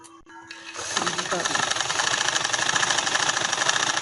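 A sewing machine stitching piping onto a designer dupatta starts up after a brief pause and then runs in a steady, fast, rattling whir close by, continuing loudly to the end while someone speaks over it.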